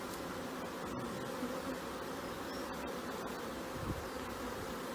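Honey bees buzz around an opened hive during beekeeper training, a quiet, continuous hum of many insects close by with a few individual bees passing nearer; no one speaks.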